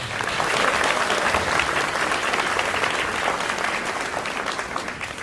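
An audience at a 12th grade graduation ceremony gives another round of dense, steady applause, a full crowd clapping for several seconds that slowly eases off.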